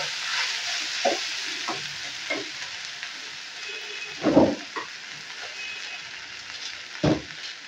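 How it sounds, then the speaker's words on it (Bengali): Chira pulao, flattened rice cooked with fried peanuts, hisses softly in a pan while a spatula knocks and scrapes through it in a few distinct stirring strokes, two of them louder; close and without talk. "আর ভালো করে নেড়ে চেড়ে নেব।"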